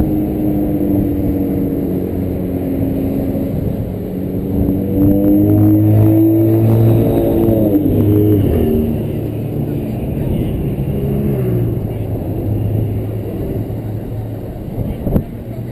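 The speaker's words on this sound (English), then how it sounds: "Firing up the karts for the formation lap." Racing go-kart engines fire up and rev before a formation lap, a loud buzzing drone with rising and falling pitch as several motors idle and blip together.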